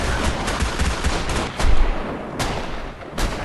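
Rapid gunfire from a Glock pistol and another gun wielded by a dual-wielding character in Guild Wars 2, a dense run of loud, close shots with a few sharper cracks standing out, continuous throughout.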